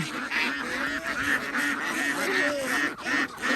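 Young female ducks being sorted for sale quack and honk loudly in a close, busy chorus of overlapping calls, continuous throughout with no speech.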